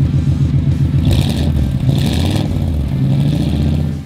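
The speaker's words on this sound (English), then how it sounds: "the noise of the side valve V8 is something marvellous" A 1954 Ford Mainline ute's side-valve V8 burbles with a throaty, uneven exhaust note, swelling in a few revving surges close by.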